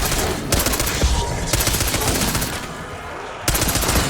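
Rapid automatic gunfire from shooting zombies in Black Ops 6 Zombies, loud and sustained bursts with brief pauses, steady game noise underneath.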